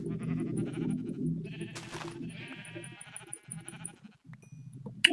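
Sheep in a survival video game bleat in a quiet, steady stream of wavering calls, with a few higher sounds over them and a brief sharp click at the close.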